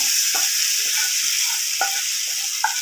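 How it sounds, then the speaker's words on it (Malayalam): Hot tempering poured into Kerala banana stem curry sizzles steadily in a pan, a bright hiss with a few soft clinks and pops scattered across the short stretch. "നമ്മുടെ വറവലൊക്കെ ശരിയായിട്ടുണ്ട് അപ്പോൾ നമ്മളത് നമ്മുടെ കറിയിലേക്ക് ഇട്ട് കൊടുക്കാം"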